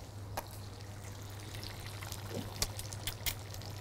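An egg slides into a frying pan of melted butter over medium heat, giving a soft watery sizzle and a few small pops and crackles over a steady low hum, close and fairly quiet.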